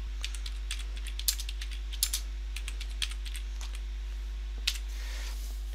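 Quick, light keystrokes on a computer keyboard as speaker notes are typed into a PowerPoint slide, irregular bursts of clicks close to the mic over a steady low hum, no voices.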